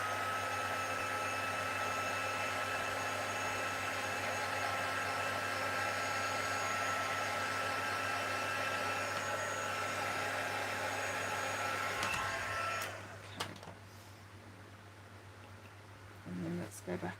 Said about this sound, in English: I'm just going to dry that with our heat tool now